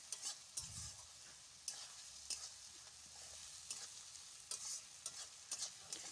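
Ginger and garlic paste fries in a pot for a mutton and potato curry, a quiet background sizzle punctuated by repeated spoon scrapes and clinks as it is stirred.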